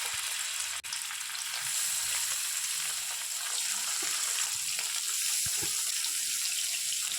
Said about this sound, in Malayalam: പാനിലെടുത്തിട്ട് ലേശം ഓയിൽ ഒഴിച്ചതിൻ്റെ ശേഷം നമ്മൾ മസാല പറ്റി വെച്ച അയില അതങ്ങോട്ട് എടുക്കുക അല്ല പേലക്ക് ഓരോന്നായിട്ട് അങ്ങോട്ട് ഇട്ട് കൊടുക്കുക